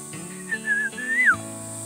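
A person whistles in imitation of bird calls outdoors: a few short, rising and falling whistled phrases, fairly close and clear over a steady low background hum, with no talking.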